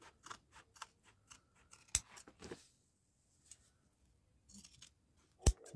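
Scissors snip through a piece of leather being cut for a boot shaft repair, a run of quick crisp close cuts followed by a couple of sharper louder clicks, quiet between strokes.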